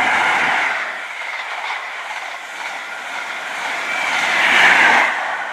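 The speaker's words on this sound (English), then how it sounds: "passing through now is another HST" A High Speed Train passes through West Drayton station on the Great Western main line, a steady loud rumble and rail roar that swells toward the end as it goes by, with no talk over it.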